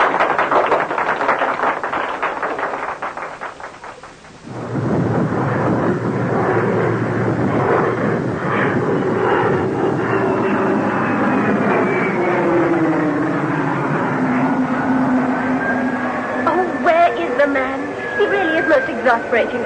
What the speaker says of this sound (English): But that's the plane for Tanzania standing on the tarmac now.